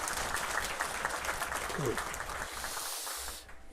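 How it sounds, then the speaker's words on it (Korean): Church congregation clapping together during a service, a steady dense wash of applause for about three seconds that thins and fades near the end. "박수 한번 해주시기 바랍니다."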